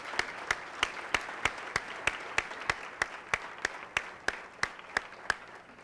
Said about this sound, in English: give a nice, strong round of applause to your planning committee